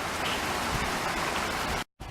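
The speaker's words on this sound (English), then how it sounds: "Raining!" Steady hiss of rain falling outdoors near a rat and mouse trapping station, a continuous soft wash that briefly cuts out near the end before resuming.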